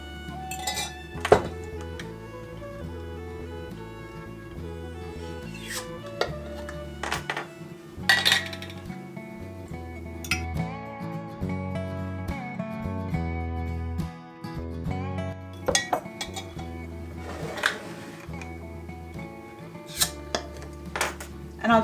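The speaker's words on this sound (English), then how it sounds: "strain off the liquid from the meat and also from the carrots" Cooked venison and carrots being strained, their liquid poured off into pans, with clinks and clatters of pots and utensils and some liquid pouring, close and irregular over about twenty seconds.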